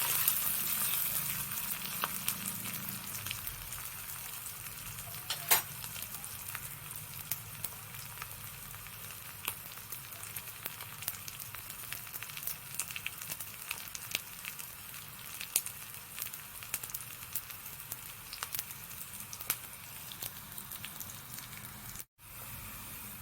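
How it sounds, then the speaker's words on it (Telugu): Tempering spices sizzling and frying in oil in a pan while making millet vegetable soup, a steady soft hiss with occasional crackles and pops, heard alone and fairly quiet. "అంటే తాలింపు వేగుతుంది."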